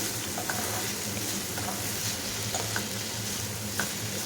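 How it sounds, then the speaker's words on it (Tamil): Sliced raw banana frying in a pan over a medium flame, stirred lightly, giving a steady sizzle with occasional soft scraping clicks throughout. "இப்போ லைட்டாக கலந்து விட்டுட்டே இருங்க"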